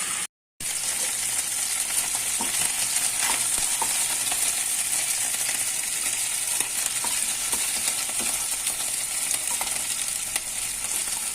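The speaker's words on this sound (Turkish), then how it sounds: "Çok azıcık yağ koyduk içine. İki taraflarını kızartalım biraz." Chicken pieces fry in a little oil in a pot, a continuous close sizzle and crackle with occasional small pops, no talking.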